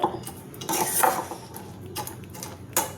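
Metal utensils clink and scrape against a pot while sweets are strained out of sugar syrup, a series of light close knocks and rattles with no talking.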